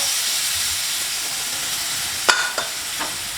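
Soy sauce hitting a hot pan of golden-browned garlic and butter sizzles under a steady background hiss, with a few sharp crackling bursts near the end of the pan cooking for honey garlic chicken.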